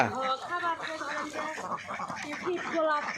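Ducks on a farm quacking in a busy, overlapping chorus right after being fed, close and fairly loud throughout, with voices talking alongside.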